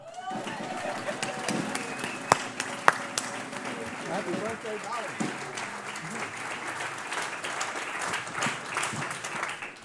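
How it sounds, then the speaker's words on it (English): Audience applause for a birthday at an eTown live event, a dense steady wash of clapping across the whole stretch with crowd noise and a voice speaking briefly over it. "Let's all give a round of applause for someone's birthday, the eternally young and always talented Janine Santana."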